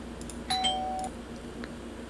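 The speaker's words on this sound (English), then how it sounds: "You woke up to the sound of the doorbell's ring." A single clear doorbell chime rings once in a horror video game, a bright tone sustained for about half a second over a quiet room hum.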